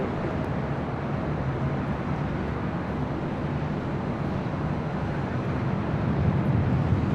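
A jet airliner departing runway 24 left at LAX produces a steady, broad roar that holds evenly for several seconds and swells slightly toward the end, heard from a distance with no voices.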